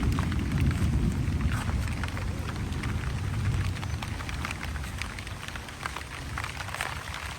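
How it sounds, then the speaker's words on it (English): Heavy rain pours steadily over a garden of tomatoes, peppers and basil in grow bags, a dense, continuous hiss with scattered drop impacts and no voices. "of course with all this rain"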